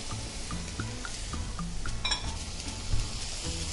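Chopped vegetables and garlic sizzle in a soup pot, a steady close frying hiss broken by light clinks and stirring taps against the pot.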